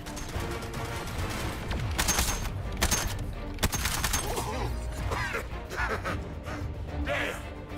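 Sustained gunfire and blasts from the video game Suicide Squad: Kill the Justice League, loud and dense throughout, with heavy impacts, game effects and a voice mixed into the chaotic boss fight.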